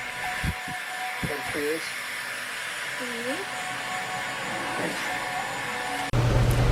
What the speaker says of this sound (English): Dyson blow dryer.